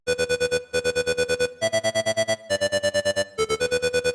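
A buzzy, distorted synth lead plays a choppy staccato melody of rapid repeated notes in short phrases, bright and harsh, with no voices.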